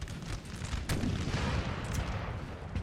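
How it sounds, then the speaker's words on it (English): Napoleonic artillery and musket fire during a Total War video game battle: a continuous, heavy barrage of booms and crackling shots layered into a loud, sustained din. "Yeah, this is friendly artillery here."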